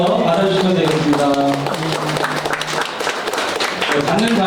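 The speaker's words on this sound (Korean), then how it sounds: "전달할 때 큰 박수 부탁드리겠습니다" Applause from an audience at a Rebuilding Korea Party policy event greets a box handover, a brief, mid-distance patter of clapping that runs under and alongside talking voices.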